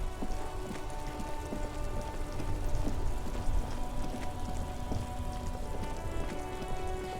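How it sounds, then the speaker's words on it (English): Constant video game rain from Disco Elysium patters on a surface in a dense, crackling hiss with scattered droplet clicks, steady and fairly close, with no talking. "Ooh, and it's raining."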